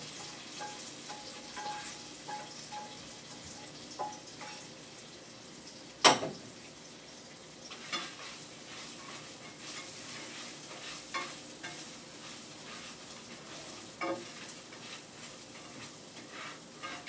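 Potatoes fry in hot oil with garlic in a pan with a steady crackling sizzle, punctuated by occasional scraping stirs and one sharp clack.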